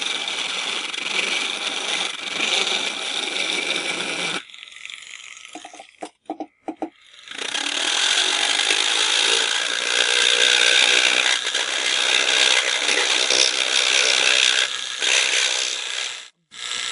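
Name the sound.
rotary tool removing excess glue from a hairpiece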